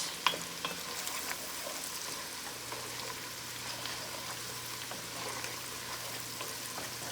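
Vegetables sautéing in butter in a pan on a stovetop, a soft continuous sizzle with faint crackles and stirring, low and steady with a faint hum underneath, no voices.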